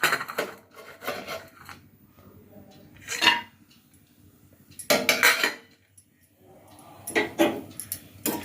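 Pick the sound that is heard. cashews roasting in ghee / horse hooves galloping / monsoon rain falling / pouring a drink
cashews roasting in ghee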